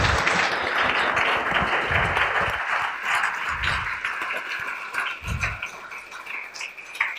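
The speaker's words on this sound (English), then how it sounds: "Just give me a big round of applause to the admin team at Christ College." An audience at an evening church lecture at Christ College applauds warmly, a dense round of clapping that gradually thins out and tapers off over about seven seconds, with a few low thumps underneath.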